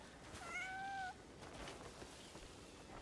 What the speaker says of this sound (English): sit here and pet this cat endlessly?